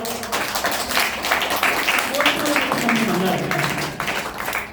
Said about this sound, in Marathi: तुम्ही टाळ्या वाजवता.